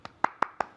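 Four crisp hand claps ring out in an evenly spaced rhythm, close and moderately loud, in a quiet room.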